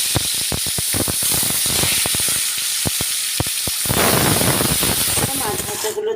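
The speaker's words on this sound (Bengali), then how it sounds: "এবার নুন হলুদ মাখানো যে মাছগুলো ছিল সেগুলো আমি ভেজে নিচ্ছি।" Salt-and-turmeric-coated rohu fish pieces fry in hot oil in a wok, a loud continuous sizzle and hiss punctuated by sharp crackles and pops, with the spattering swelling toward the end.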